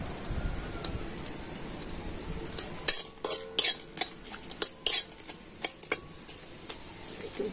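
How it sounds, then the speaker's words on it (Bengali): Two dried red chillies dry roast in a kadai, with a soft hiss at first, then a run of close, uneven scraping and clinking as a spatula stirs them against the metal. "তো প্রথমে আমি 2 শুকনো লঙ্কা কড়াতে দিয়ে দিচ্ছি।"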